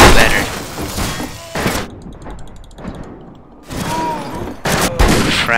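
Video game gunfire rattles in loud bursts of rapid shots, separated by brief gaps filled with mechanical clicks and softer game effects, with a voice heard faintly in between.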